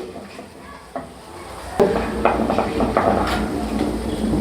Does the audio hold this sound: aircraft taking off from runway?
no